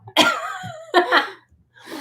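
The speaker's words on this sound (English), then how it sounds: "I'm coughing too." Two or three harsh, close coughs in quick succession, followed by a breathy pause.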